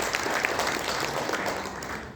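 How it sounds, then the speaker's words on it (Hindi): An audience applauds at an Arya Samaj Vedic bhajan gathering with a dense, even patter of clapping that holds steady for a couple of seconds. The sound is moderately loud and slightly distant, as in a hall. "एक बार जोरदार ताली बजाइए।"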